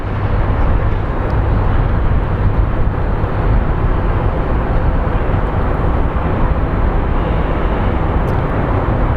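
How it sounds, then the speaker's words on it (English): Airliner from Colorado Springs landing at Phoenix Sky Harbor, a loud, steady broadband engine roar that holds continuously throughout with no voices. "it is getting a look at the flight from Colorado Springs as it lands"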